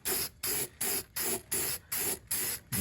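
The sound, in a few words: spray paint being sprayed for corrosion protection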